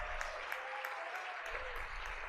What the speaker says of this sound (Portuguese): queria até pedir uma salva de palmas para a comunicação da Prefeitura de Vitória